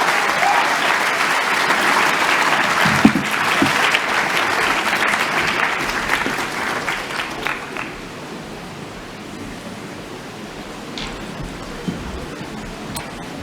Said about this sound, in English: Big Thank round of you. applause, please.